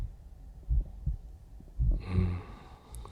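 A man's heartbeat heard up close, with slow, muffled, deep double thumps repeating in a steady rhythm over a low hum, no talking.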